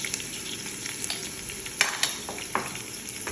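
Ginger and garlic frying in a pan give a steady, close hiss with a few sharp clicks and scrapes of stirring scattered through, no voices present.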